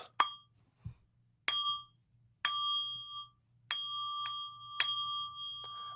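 Heavy polished copper magic cups for cups and balls striking each other: about six clear, ringing bell-like clinks, some with long sustained tones, spaced irregularly over a faint low hum.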